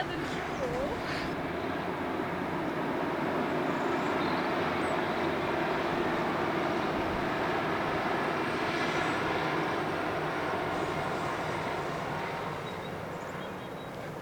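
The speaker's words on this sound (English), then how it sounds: "and that was the train that we were meant to be on." A train crosses the Bradshaw Brook Viaduct near Entwistle Station, heard as a loud, steady, broad rumble that holds for the whole stretch and eases off slightly toward the end.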